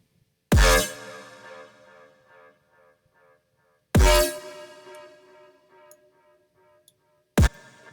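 A Serum synth bass layered with sub bass and a sidechained kick drum: two big percussive hits with ringing metallic tails that pump and fade, followed by a third short hit, with no other sound.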